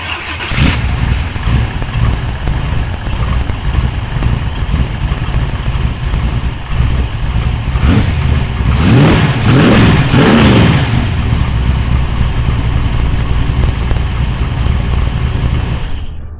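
A car engine cranks and fires while running off a 2500A portable jump pack with the battery disconnected, then revs briefly and settles into a loud, steady idle close by.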